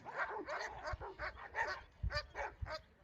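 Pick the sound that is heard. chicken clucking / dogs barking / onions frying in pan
dogs barking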